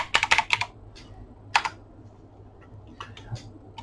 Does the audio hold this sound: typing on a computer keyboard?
yes